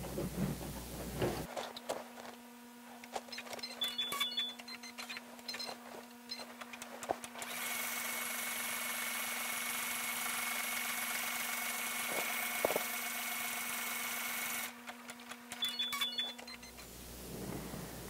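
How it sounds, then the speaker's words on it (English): An embroidery machine zigzag tack-stitches fabric in the hoop, whirring motor with a steady hum and rapid needle ticking, then a long even stitching run, with short beeps and pauses near the start and end; no talking. "The next step is going to zigzag tack that down."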